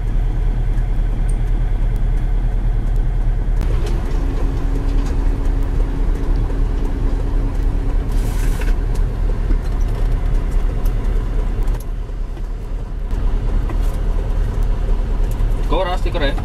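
A Fuso self loader truck engine runs at a steady idle nearby, a constant low droning hum that continues under people talking.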